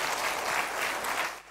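An audience at a pinball expo seminar applauds warmly, with brisk, dense clapping at a steady level that fades away at the very end.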